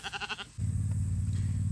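Australian White sheep bleating nearby, a loud, wavering, rhythmic bleat that shifts suddenly into a deeper, sustained cry.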